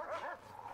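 A dog barks in the prison-management game Prison Architect, a single short, mid-loud yelp-like bark with no talk over it.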